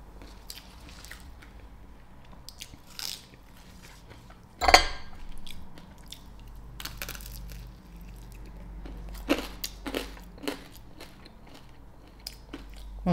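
Crisp crunches of biting and chewing into roast pork skin, close to the mouth, with a few sharp bites among softer chewing and faint clinks of cutlery, no talk over it.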